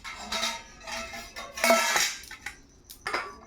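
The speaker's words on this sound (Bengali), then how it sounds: "এই দেখো ভাত বেড়ে নিচ্ছি" Metal utensils scrape and clink against a plate as cooked rice is served at home, in a few uneven bursts of clattering with short pauses between them, close and moderately loud.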